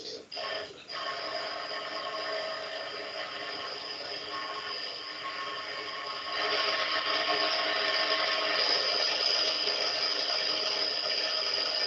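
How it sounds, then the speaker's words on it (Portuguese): Milling cutter machining metal in a workshop, giving a steady, loud tonal whine with high ringing harmonics that intensifies partway through and continues without pause. "Se você observar, ela vem usinando, né, com essa parte, vai removendo."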